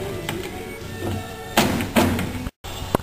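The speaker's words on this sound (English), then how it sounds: "continue until you have balance and smooth pulling in and out of the drawer" A wooden drawer on a newly built tallboy slides in and out, giving a few rubbing scrapes and soft thuds at close range, with a brief silent gap near the end.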